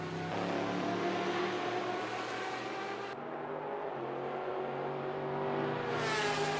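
Race-car engines from a Corvette and a Porsche in a GTE racing game at Suzuka, droning and revving loudly and steadily the whole time, with engine pitch shifting as the cars run close together.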